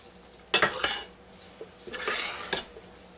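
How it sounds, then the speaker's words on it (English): A spoon stirs hamburger steak in a hot pan, giving several scraping, clinking strokes against the metal with a faint sizzle underneath, heard close up with no talking. "Alright, let's stir this."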